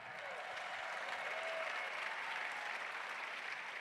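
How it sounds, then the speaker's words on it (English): Sustained crowd applause and cheering at the opening ceremony of the 2024 Carter Work Project, a steady dense roar of clapping from a large audience that holds throughout without letup. "Let's give it up one more time for Mayor Fry and Mayor Carter, everybody"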